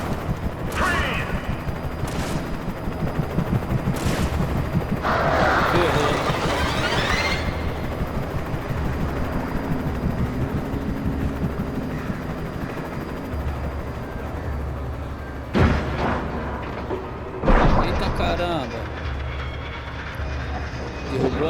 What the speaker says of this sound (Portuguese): Derrubou até o helicóptero,